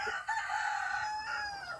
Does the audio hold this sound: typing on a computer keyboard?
no